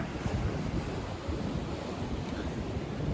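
Storm waves crash against the Yalta embankment at night, a steady, loud wash of surf with gusting wind noise over the microphone throughout.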